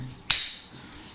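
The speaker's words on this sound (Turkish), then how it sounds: "zil başlatıyorum." A single bright bell strike rings out sharply, then its clear tone sustains and slowly fades.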